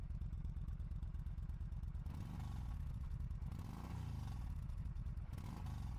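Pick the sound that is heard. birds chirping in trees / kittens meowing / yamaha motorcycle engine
yamaha motorcycle engine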